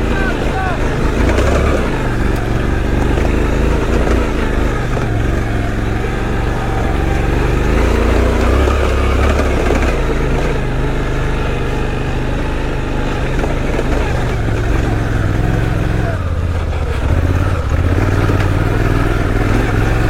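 A Suzuki V-Strom 800DE motorcycle on a muddy off-road climb, its engine loud and revving hard in surging bursts throughout, with wind buffeting and people talking over the noise.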